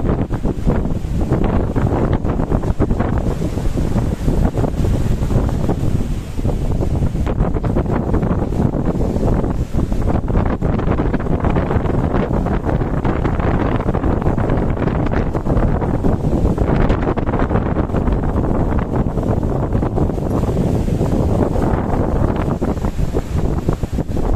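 Strong storm wind batters the microphone at Gandoriah Beach, a loud, continuous roar with gusty buffeting and crashing surf mixed in, unbroken for the whole stretch with no talking.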